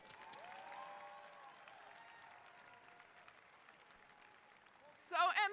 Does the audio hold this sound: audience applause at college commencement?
yes